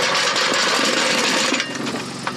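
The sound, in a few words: Peugeot 107 exhaust blowing at loose centre pipe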